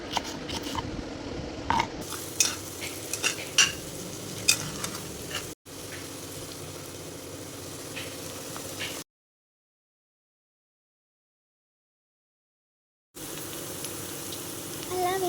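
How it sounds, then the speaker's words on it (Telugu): Onions, mustard seeds and cumin fry in hot oil with a close sizzle, broken by stirring knocks and scrapes. The sound cuts out abruptly for a few seconds, then returns. "ఫస్ట్ ఆయిల్ వేసుకొని హీట్ అయిన తర్వాత ఉల్లిపాయలు, 1 స్పూన్ ఆవాలు, 1 స్పూన్ జీలకర్ర వేసుకొని వేగనివ్వాలి"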